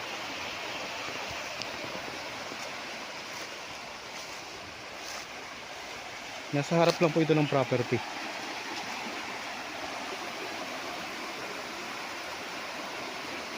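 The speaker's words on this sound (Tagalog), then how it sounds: "Yan, dito na po nila pinapadaan yung tubig. Yan, irrigation na po ito." Water rushes steadily through an irrigation canal beside a farm lot in Liliw, Laguna, a broad, constant roar heard up close with wind buffeting, while a person speaks briefly partway through.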